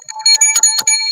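A short bright burst of bell-like dings and whistling tones, several quick chimes ringing in rapid succession over about a second, loud and close with no talking.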